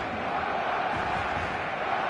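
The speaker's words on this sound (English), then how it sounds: "The stadium is full of noise and energy." Dense, steady stadium crowd roar in the football video game eFootball on match day, a continuous wash of massed voices and cheering that holds at a constant loud level throughout.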